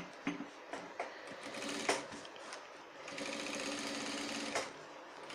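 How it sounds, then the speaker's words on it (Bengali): A sewing machine top-stitches a shirt, its needle mechanism whirring close by in short stop-start bursts before running steadily for a longer stretch. "এরপরে আবার এই যে চাপ সেলাইটা ওই একইভাবে আপনার দিয়ে নেবেন"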